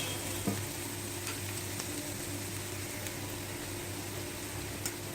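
Vegetables frying in a pan for a veg momos filling, giving a steady, even sizzle with a faint background hum and a couple of light clicks from stirring, close and fairly quiet, no talking.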